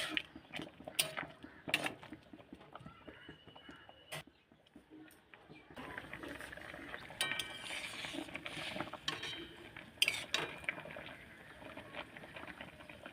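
Young jute leaf greens are stirred in a pot, with irregular clanks and scrapes of a utensil against metal, quiet gaps between bursts and a low bubbling bed underneath, fairly close.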